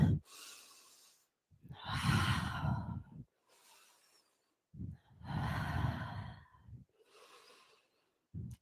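Steady yoga breaths during a vinyasa power class: two long, loud, airy exhales about three seconds apart, each followed by softer trailing breaths, close and without talk.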